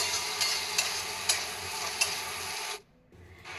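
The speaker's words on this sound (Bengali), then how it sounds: "পেঁয়াজটা দিয়ে আমি ভালোভাবে নাড়াচাড়া করে নিচ্ছি।" A large sliced onion frying in a pan is stirred, giving a steady sizzle with regular scraping strokes. The sound cuts out sharply near the end, then a fainter sizzle returns.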